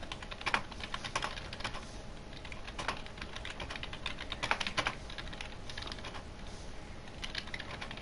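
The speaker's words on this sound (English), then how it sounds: "Let me just type it in the chat." Fingers type on a computer keyboard to enter a chat message, producing quick irregular bursts of clicky keystrokes with brief pauses between them, close and alone with no talking.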